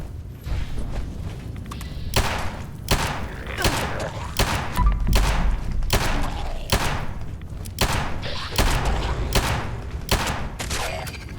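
A quad pistol firing repeatedly in Fallout 76, about ten loud sharp shots spaced roughly a second apart, each with a booming thud, over game noise.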